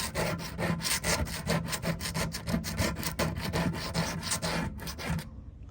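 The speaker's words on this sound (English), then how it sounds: "Wherever there's still stuck, you're gonna wanna get that off with a razor blade." A razor blade scrapes old gasket residue off the lid of a Primo grill smoker, a steady run of quick, rough back-and-forth strokes, close and fairly quiet, ending abruptly.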